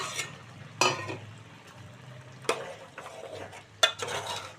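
A bottle gourd and tomato curry with dried shrimp cooks in a pot, a soft low bubbling bed broken by three sharp metallic stirring scrapes against the vessel.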